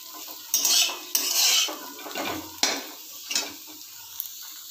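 Fried vegetables for a veg dal scraped and tipped from a pan into a bowl: a few loud utensil scrapes and clinks against metal, with brief rustling stirs between them, close up and without talk.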